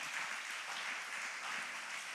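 Church congregation applauding during a sermon, a soft, even wash of many hands clapping from a distance, faint and continuous with no speech.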